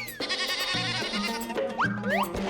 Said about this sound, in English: bleat the goats